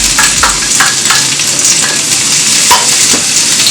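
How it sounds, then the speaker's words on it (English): Onions and garlic fry in hot oil, a loud, close, constant sizzle broken by several scraping stirs. "Now we'll be frying the onions and garlic."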